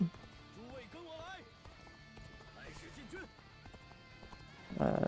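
A horse's hooves clip-clopping steadily with a whinny in the video game Dynasty Warriors Origins, under someone talking, game sounds in the background.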